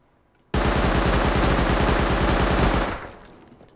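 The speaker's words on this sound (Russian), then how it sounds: "И СМГшка." A burst of submachine gun fire in the survival game Rust, one continuous rapid volley of about two and a half seconds, loud and close with no talk, then a short fading tail.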